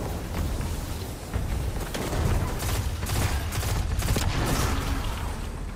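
Rapid, overlapping gunfire from a Destiny 2: The Final Shape legendary campaign fight rattles on without pause, loud sustained bursts and heavy impacts filling the whole stretch with no talking.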